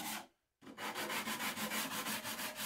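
A clamped wooden toolbox is machine-sanded with 100 grit sandpaper, a steady, close rasping scrub with a regular pulsing rhythm that starts after a brief pause and continues without any voices.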